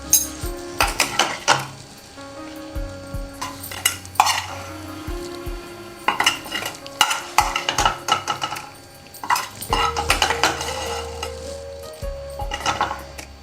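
Metal ladle scraping and clinking in a pan as a beach-side style prawn fry is lifted out onto a plate; repeated close scrapes and clatters come in bursts, with a faint sizzle underneath.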